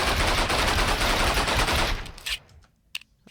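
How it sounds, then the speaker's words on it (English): Automatic Glock fire from Flan's Mod in Minecraft, a loud, dense burst of rapid shots lasting about two seconds before cutting off, followed by a few faint trailing clicks and echoes. "And the Glock, which is I didn't include in the pistols because it's actually SMG."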